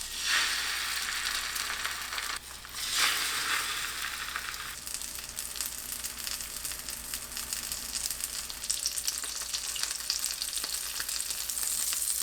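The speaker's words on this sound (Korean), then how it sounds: "식용유 두른 팬에 중약불로 구워줍니다" Enoki mushrooms coated in egg pan-frying in oil over medium-low heat, a continuous bright sizzle that surges early on, then settles into an even crackle with scattered small pops.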